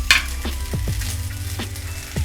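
Maggi rice tossed with masala in a pan gives a soft steady sizzle, with a few sharp scraping spoon strokes against the pan.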